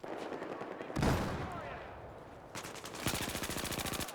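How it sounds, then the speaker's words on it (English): Rapid automatic gunfire from Battlefield 4 hip-firing with a laser sight, loud close bursts with a big blast around one second, then a fast rhythmic stream of shots near the end. "Oh my gosh, this hip fire is insane."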